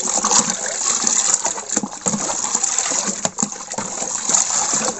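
A liquid mixture is stirred briskly in a container, giving continuous close watery sloshing and swishing with irregular surges throughout.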